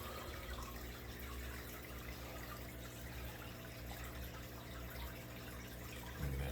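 Steady, faint rush of bubbling water flowing continuously, a soft even wash of aeration with no voices.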